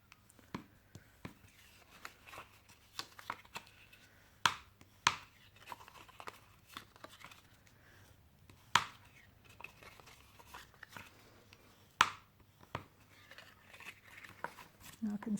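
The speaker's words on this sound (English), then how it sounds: "we're going to burnish them all, both sides" Paper cards being burnished on both sides with a hand burnishing tool produce a series of quiet irregular scrapes and sharp taps. Each comes in a short burst, with soft rubbing between them.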